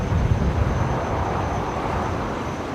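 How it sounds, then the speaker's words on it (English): An Air Niugini Boeing 767 taxis at Brisbane Airport, a broad steady engine rumble and whine heard from a distance, constant with no break. "Now I've just spotted the Air Niugini 767. Taxiing out."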